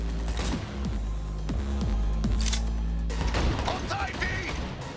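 Gunfire rings out in a Cyberpunk 2077 car chase, with loud, dense shots and impacts layered over a steady engine rumble and raised voices.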